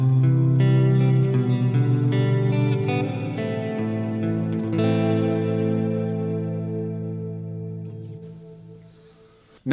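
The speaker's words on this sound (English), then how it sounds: "just a reminder of what the modulate setting on this pedal sounds like" Electric guitar chords ring out through a Boss RV-6 reverb pedal on its modulate setting, a lush, wavering reverb, notes swirling and slowly decaying into a long shimmering tail.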